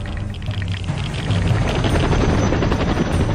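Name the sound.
helicopter approaching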